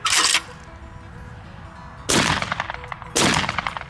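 Three loud, close shotgun blasts from a CZ USA 1012 12-gauge semi-automatic fired at clay targets outdoors, the first and the last two spaced apart, each with a sharp crack and a short rolling echo.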